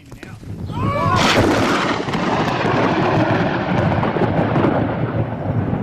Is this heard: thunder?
yes